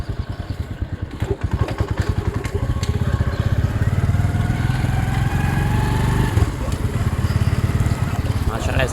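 A motorcycle rides through a mosque-square market, its engine chugging steadily and close with a rapid, rattling putter, while someone talks over it.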